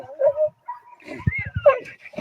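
A dog in protection training tries to attack a man, giving short yips, whimpers and a burst of rapid barks, close and loud, with brief pauses between.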